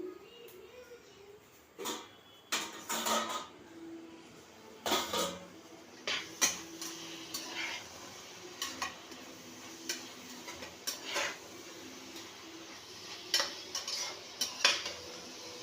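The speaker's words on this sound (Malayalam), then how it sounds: "ഏതായാലും നമ്മുടെ സവോള നമുക്കൊന്ന് ഇളക്കി കൊടുക്കാം." Onions being stirred in a pan while cooking mushroom masala at home: repeated scraping and clinking strokes of a utensil against the pan, irregular and close, with a soft sizzle underneath and no talking.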